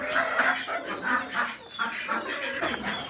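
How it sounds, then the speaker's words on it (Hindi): Chickens from a newly ordered flock of hens with a rooster cluck steadily and close by, a busy overlapping chatter of short calls with no talking. "ये रहे जी हमारे मुर्गियाँ।"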